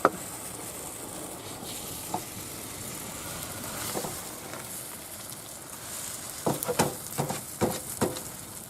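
Bacon and cheese fry in a pan for a breakfast of fried cheese on toast, making a continuous low sizzle with a few clicks and clatters of utensils toward the end.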